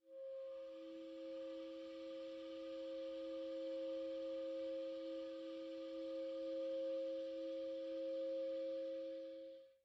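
A clarinet sustains a stable dyad multiphonic, two steady pitched tones held together evenly for about ten seconds, produced by reed pressure from the lower jaw with the register key open, played alone without talk.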